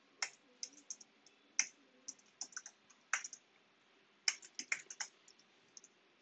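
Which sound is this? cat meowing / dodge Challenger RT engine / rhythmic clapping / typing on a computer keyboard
typing on a computer keyboard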